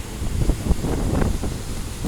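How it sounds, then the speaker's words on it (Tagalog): Strong storm wind roars across the microphone alongside the rolling wash of large sea waves, a steady, loud, blustery mix with no voices. "Sobrang laki ng alon, grabe."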